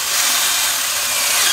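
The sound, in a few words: drilling a counterbore hole for tail light wires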